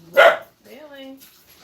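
A dog gives one loud, short bark at close range, followed by a quieter drawn-out voiced sound, likely a person talking.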